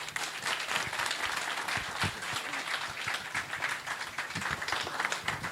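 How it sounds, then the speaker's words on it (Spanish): An audience at an anniversary event applauds steadily throughout, a dense, even patter of many hands clapping in a hall. "Fuerte el aplauso."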